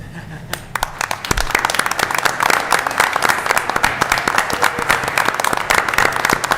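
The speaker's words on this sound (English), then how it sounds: "You guys deserve an applause too" Former council members stand while a town council candidate forum audience in Vail applauds: dense, steady clapping from a crowd, moderately loud and sustained with a few sharper individual claps, with some talk mixed in.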